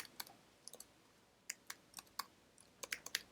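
Data is entered on a computer keyboard, with sparse, quiet key clicks in an uneven rhythm, a few isolated taps followed by a quicker cluster, close and alone without talk.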